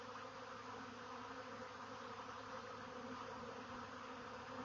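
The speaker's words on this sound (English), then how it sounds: "we have a swarm in motion. Tens of thousands of honeybees have swarmed from their previous location." A swarm of tens of thousands of honeybees on the move makes a dense, steady buzzing drone, close and continuous with no pauses.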